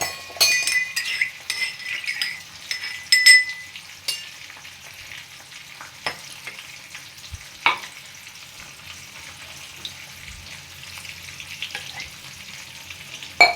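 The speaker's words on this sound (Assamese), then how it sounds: "লাহেকৈ পানী ঢালি দিম।" Water poured slowly into a pan of sizzling sautéed vegetables while making a Manipuri-style vegetable soup, with soft frying hiss, scattered utensil clinks and stirring scrapes throughout, close and moderately quiet.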